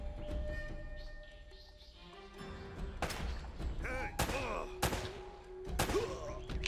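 Gunfire in an Uncharted game firefight: scattered sharp shots and thuds, several loud cracks spaced a second or so apart over a steady background of battle noise.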